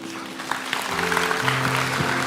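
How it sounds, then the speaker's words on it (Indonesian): A church congregation applauds in a brief, dense patter of clapping, with a sustained tone humming underneath. "Kasih tepuk tangan untuk mereka."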